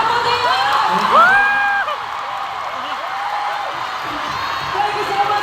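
A concert audience at a concert finale cheers and applauds a performer with loud, sustained whoops, shouts and clapping that swell near the start and then settle into a steady roar.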